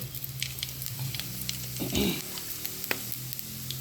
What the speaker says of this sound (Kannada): ಎಣ್ಣೆ ಬಿಸಿ ಆಗುವಾಗ ಸಾಸಿವೆ ಒಂದು ಸ್ವಲ್ಪ ಹಾಕ್ಕೊಂಡು ಸ್ವಲ್ಪ ಜೀರ ಸ್ವಲ್ಪ ಜೀರ ಹಾಕ್ಕೊಂಡು